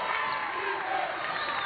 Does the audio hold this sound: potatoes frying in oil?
no